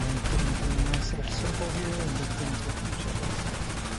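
Steady, continuous automatic gunfire in GTA 5 rattles on for several seconds with overlapping bursts, layered with other game noise and a faint voice.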